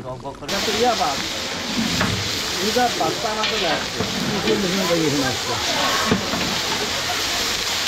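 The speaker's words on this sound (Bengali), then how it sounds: "দেখেন মাছ একবারে টকবক টকবক করে ফুটতেছে" Fish bubbles and fries vigorously in a pan while a festive traditional Bengali meal is cooked, a loud continuous hiss and sizzle with popping bursts heard up close, and a voice talks over it.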